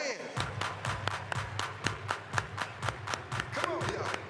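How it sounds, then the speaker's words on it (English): Rodeo crowd at an African-American heritage event claps in steady unison rhythm, each clap a crisp regular beat, with a voice and background sound running underneath. "Everybody, clap your hands"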